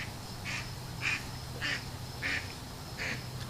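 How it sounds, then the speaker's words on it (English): Five evenly spaced honks ring out, a Canada goose calling in flight about once every half second, moderately loud over a low steady background hum. "There goes a Canadian geese."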